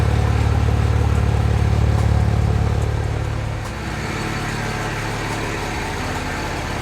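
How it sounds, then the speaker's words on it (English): A car engine idles with a deep, throbbing exhaust rumble, then drops to a lower, softer idle partway through, steady and close. "Exhaust sounds good."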